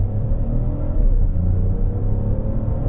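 A new Opel Mokka compact car accelerates on a road test drive, its engine rumbling and whirring in a steady, loud rise from inside the cabin, with no talking.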